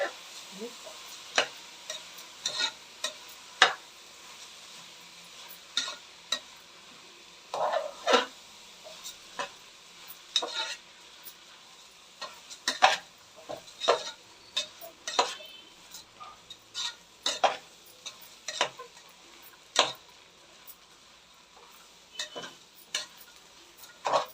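Rice being stirred into masala in a pan for a fenugreek-leaf rice bath, with repeated sharp scraping and clinks of a spoon against the pan at an irregular pace over a quiet background.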